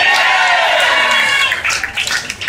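A concert crowd in New York applauds for a singer at a smooth jazz show, a loud, dense wash of clapping and cheering that thins toward the end.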